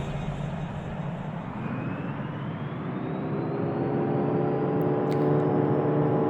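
Airplane engine in the RFS flight simulator heard from inside the cockpit, a steady, dense droning hum that slowly swells in pitch and loudness, with a faint high whine and no voices.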